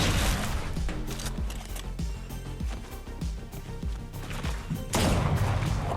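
Gunfire in Fortnite ranked play, rapid volleys of sharp shots and thuds stacked over game music, loud bursts at the start and end with steadier firing and impacts between.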